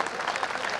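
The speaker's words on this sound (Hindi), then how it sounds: "एक बार तालियां बजा दीजिए।" A brief burst of dense clapping from a poetry gathering crowd, steady and fairly close, with no voices over it.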